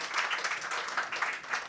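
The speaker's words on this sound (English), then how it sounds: "Please give a round of applause for our so decorated author for today." An audience at a Write Circle Delhi book event applauds the decorated author Manjari Jaruhar; the clapping is brief, even and continuous at a moderate level, with no voices over it.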